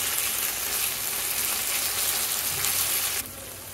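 Garlic and ginger paste frying lightly in a pan makes a steady, close sizzling hiss that drops away sharply near the end.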